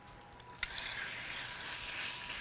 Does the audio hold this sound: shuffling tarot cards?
no